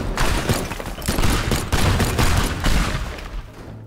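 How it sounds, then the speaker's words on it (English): A building collapsing under destruction in the video game Teardown produces dense, crackling bursts of rapid impacts and debris, loud and continuous, easing slightly toward the end. "So now I'm gonna be destroying the building"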